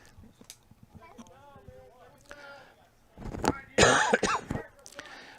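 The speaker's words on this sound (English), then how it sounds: "Pardon my coughing." A football game commentator with a scratchy, bug-worn voice coughs and clears his throat loudly right at the microphone, after a stretch of quieter sounds.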